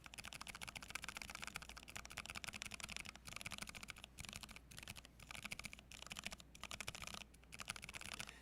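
Gateron silent linear keyboard switches are pressed in a quick, steady typing rhythm, giving soft, muted clacks close up with no voices.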